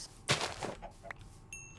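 Chickens cluck in a blocky survival video game, a short burst of fowl calls rising then trailing off over about a second, followed by a brief high electronic tone.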